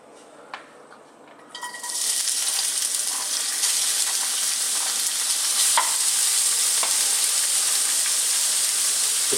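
Onions hit hot sunflower oil in a pan for vegetable samosa filling, a quiet start bursting into a loud, steady close-up sizzle that continues with a few faint clicks and no talking.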